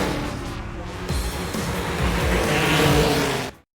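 Race cars roar along a track in a film scene, a dense, continuous engine drone building louder toward the end with hints of tires and passing cars before cutting off abruptly.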